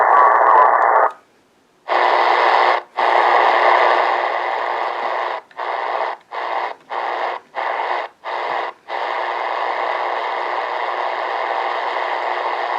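A distorted shortwave radio signal between 12 and 15 kHz on an XHDATA D-808 receiver hisses and buzzes in dense bands of noise, cutting out in several short rhythmic gaps before settling into a steady garbled drone.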